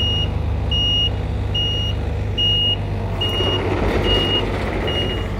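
An excavator reverses during licence practice in Christchurch, New Zealand, its reversing alarm sounding a steady run of about seven evenly spaced high beeps over a constant, heavy diesel engine rumble.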